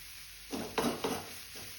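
Boiled potato is stirred into spinach in a hot pan with a spatula, producing three quick scraping, sizzling strokes close by over a quiet hiss.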